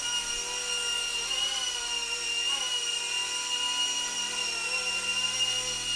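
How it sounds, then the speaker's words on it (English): RC Hughes MD500 model helicopter in flight, a continuous high-pitched electric motor and rotor whine holding steady and fairly loud throughout, with no talking. "You can see the helicopter flies really nicely."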